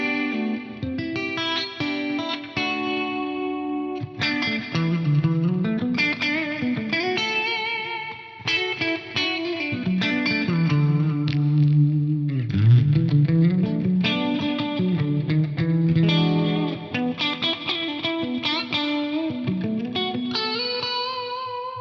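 Electric guitar played through a Band Commander amp model on an FM3 modeler, processed tone with chorus-like shimmer and mild distortion, melodic lines and chords ringing out alone for about twenty seconds.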